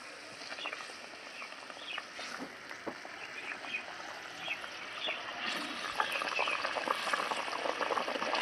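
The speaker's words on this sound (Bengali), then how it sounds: "ঝোলটা দেখুন ভালো মতন ফুটে উঠেছে" Curry gravy boils in a pan, giving quiet continuous bubbling with small pops and sputters that grow slightly louder toward the end.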